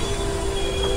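Steady, piercing squeal of train wheels at a small station in India, a sustained high metallic whine held over continuous low rumble of rolling rail cars, close and loud throughout.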